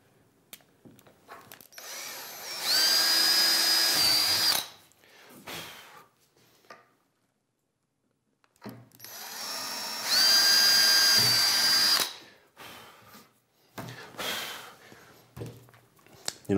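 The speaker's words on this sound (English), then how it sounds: "And we can go ahead and drill our holes." Two long bursts of a power drill boring holes in a drawer overlay panel, each a few seconds of steady whine close by, separated by quiet pauses and brief handling knocks.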